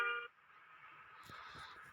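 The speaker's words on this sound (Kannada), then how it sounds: "ಹಾರನ್ ಎಲ್ಲ ಚೆನ್ನಾಗಿದೆ." A bus horn in a realistic bus-driving video game gives one short, bright honk at the start, then a steady soft hiss of rain continues in the background.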